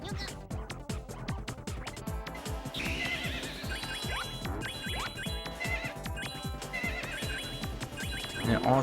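In the video game Super Magnetic Neo, a horse whinnies amid busy game music and effects, with a voice talking over the sound.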